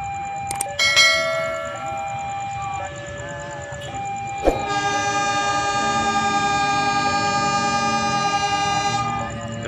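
A locomotive horn sounds the departure signal for the Serayu Malam train at Tasikmalaya station, a loud sustained multi-tone blast held steady for several seconds after a few short sharp clanks and a brief earlier tone.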